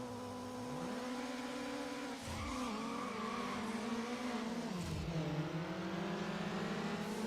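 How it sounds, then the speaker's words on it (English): Racing car engines in the video game Need for Speed Underground rev and shift continuously, with pitch rising and dropping through gear changes as other cars close in, loud and steady throughout. "all I hear is the sound of engines coming up behind"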